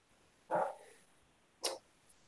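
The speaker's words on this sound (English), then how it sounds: "Those are my dogs." Dogs give two sharp, separate barks about a second apart, fairly faint and somewhat distant, with quiet in between.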